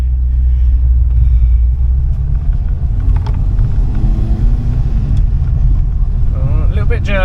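A Ford Escort Mk4 with an out-of-tune carburettor runs jerkily while being driven, giving a loud, steady low engine rumble from inside the car throughout, with faint voices now and then.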